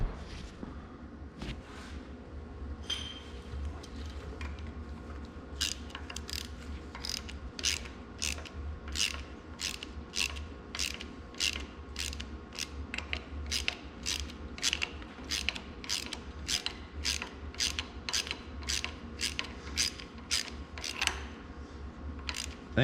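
A wrench ratchets steadily as puller bolts are drawn up to pull the pulley off an Oliver 1600 tractor engine, giving a long run of close, evenly spaced clicks that quicken midway.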